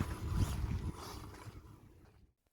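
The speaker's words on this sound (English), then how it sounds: "Because that's a slipping ball differential." Slipping ball differential in a hobby RC car, giving a loud grinding, churning mechanical whir that fades over about two seconds into silence.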